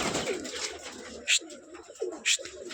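Roller pigeons coo in low, warbling phrases nearby, broken by a few short, sharp bursts, with no voices.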